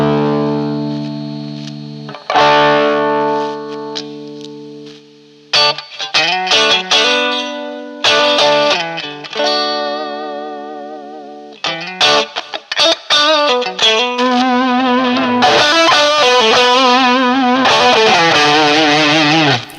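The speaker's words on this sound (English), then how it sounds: "I'm going to play a few licks on a telly, but I'm also going to play the Les Paul" Electric guitar licks on a Les Paul driven through a BSM treble booster, bright and overdriven, played in short phrases with sustained chords, bends and quick runs, loud and close with no talking.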